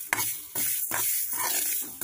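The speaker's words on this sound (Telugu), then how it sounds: "అలాగే రాగులు కూడా దోరగా ఫ్రై చేస్తున్నా రాగి మొలకలు మాడిపోకుండా స్టవ్ లో ఫ్లేమ్ లో ఉంచుకొని మాత్రమే" Ragi sprouts fry in a pan over a stove flame, with a steady close sizzle and rhythmic scraping strokes of a stirring spoon every half second or so.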